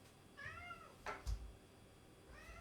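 A cat meows a few times, soft and fairly close, with short pauses between the calls in a quiet room.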